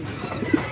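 Pigeons near a blue Taiwan-style pigeon training box give a single low coo, close, over faint background rustle.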